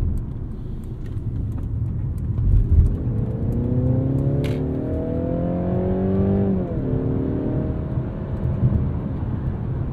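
A Mercedes-Benz C300 4MATIC sedan accelerates in sport mode, its engine note rising steadily as heard from inside the cabin, then dipping on an upshift before climbing again over low road rumble.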